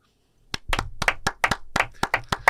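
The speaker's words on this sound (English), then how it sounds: "Let's give it a clap." Eleven or so sharp hand claps from a few people on a podcast set, ringing out in a loose, uneven rhythm, close and fairly loud, with no talking over them.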